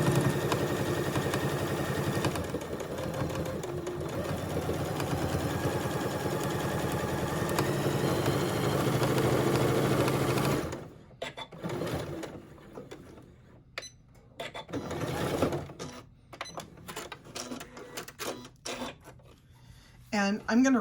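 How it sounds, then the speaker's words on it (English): A sewing machine runs steadily as it stitches a quarter-inch seam across the top of a curve-top makeup bag, joining two fabric pieces, then falls into short bursts and stops as it back-stitches to secure the seam. "I am just going to stitch a 1/4 inch seam allowance right across the top of my bag to join these two pieces together"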